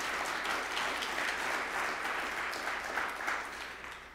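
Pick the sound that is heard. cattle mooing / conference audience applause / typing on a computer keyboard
conference audience applause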